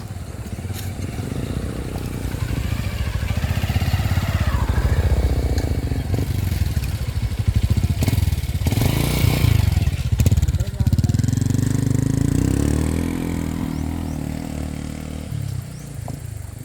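A motorcycle engine runs steadily close by, its low rumble rising and falling, with people talking over it.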